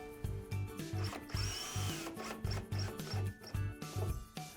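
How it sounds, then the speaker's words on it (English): A power drill drives a long panel screw through a shim into an elevator cab shell, with repeated short bursts of motor whine and grinding in a stop-start rhythm, close and fairly quiet. "Once the hole is pre-drilled, using the longer panel screws, just insert the screw."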